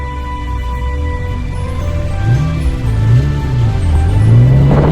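Austin-Healey classic sports car passing on a country road near a bridge, its engine note rising and falling steadily and close by, with a gathering swell of engine noise toward the end and no talking.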